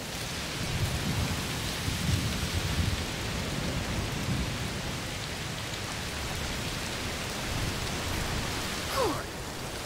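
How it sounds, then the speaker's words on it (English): A thunderstorm in the video game A Plague Tale: Requiem: dense, steady rain hisses throughout while deep thunder rumbles low underneath, swelling and fading without a pause. "Must be a heat storm."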